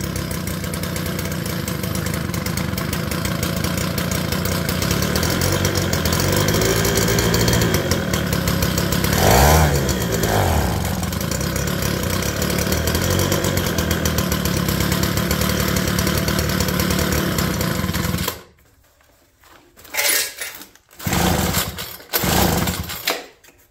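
An old leaf blower, once left in a ditch, runs with a loud, steady two-stroke engine buzz that revs briefly midway, then cuts out and sputters in several short bursts near the end.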